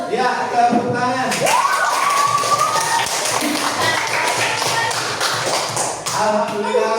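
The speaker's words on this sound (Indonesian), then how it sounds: "Ya, tepuk tangan." Children in a classroom clap their hands together in a dense, steady burst of applause lasting several seconds. A teacher's voice is heard over the start and the end.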